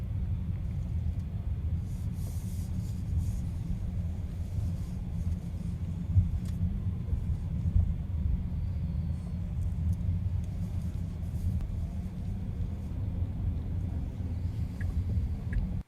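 A Tesla Model S Plaid driving around in a circle, heard as a steady low road and tyre rumble from inside the cabin, with no engine note and no distinct events.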